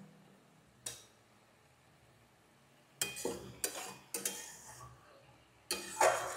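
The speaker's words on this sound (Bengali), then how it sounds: "আবার একটু নেড়ে আমি এটাকে আবার ঢেকে দেবো" Food is stirred in a metal pan during a village-style cooking session, with a single early clank, then a run of scraping, clattering strokes and a final clink as a lid is set down, all close and fairly quiet with no talk.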